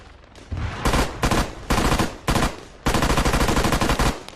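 Heavy .50-calibration underbarrel gunfire in the Arma 3 video game, several loud sustained bursts of rapid shots separated by short pauses, the last burst running longest, with no talking.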